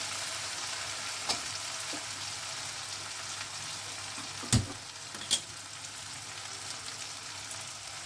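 Spice paste being sautéed in a pan for chicken tehari, a soft, even sizzle and stirring throughout with a few sharp scraping clicks from a spoon.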